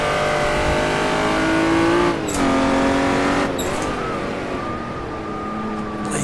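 A Jaguar D-type race car at Goodwood, its engine loud and close with harmonic revs that drop sharply twice as it downshifts, then settle into a steady drone.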